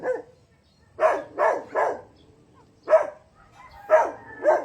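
A nearby dog lets out a run of six sharp, loud barks in uneven clusters separated by short gaps.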